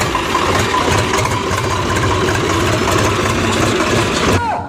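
A tractor engine idles with a steady low, rhythmic chugging throughout, close and loud, then cuts off abruptly near the end.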